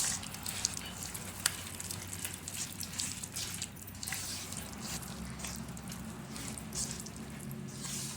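Bangude fish is mixed by hand with masala and oil, giving soft, wet squishing and slapping sounds that continue close by at a low level without pause.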